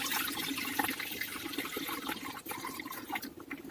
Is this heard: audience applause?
no